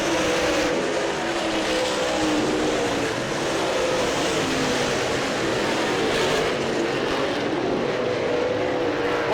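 Stock race cars roar past on an oval track at the Slocum 50, a dense, continuous engine drone from a pack of cars lasting throughout, loud and steady with no talk.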